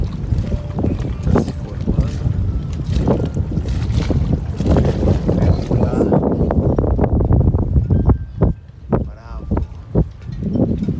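Strong wind roars and buffets the microphone during a storm while water slaps against the hull of an anchored boat, with intermittent knocks and creaks from the boat.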